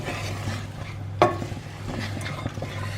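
Onions stirred in a pan give a steady low scraping sizzle, with one sharp utensil clack against the pan a little past the first second and a few softer knocks after it.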